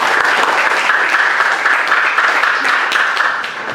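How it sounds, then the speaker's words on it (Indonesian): Classroom of students clapping together in a sustained, dense round of applause, steady and fairly loud throughout before easing slightly at the end. "Tepuk tangan untuk kita semuanya."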